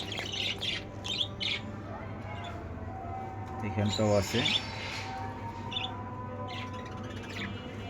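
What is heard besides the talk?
pet lovebirds chirping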